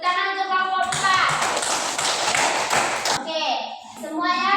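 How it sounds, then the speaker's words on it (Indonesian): Classroom children clap together for a student group, a short burst of quick, lively claps lasting about two seconds between stretches of a young voice talking close by. "tepuk tangan untuk kelompok 4"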